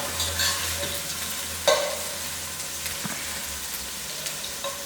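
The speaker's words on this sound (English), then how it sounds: "And let them fry all together" Curry leaves frying with masala in a pan for a broad beans curry, giving a steady close sizzle with occasional stirring scrapes and clicks.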